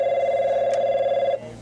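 A telephone rings at a customer support line, a steady electronic tone that holds loud and close, then cuts off abruptly as the call is picked up, leaving faint room hum.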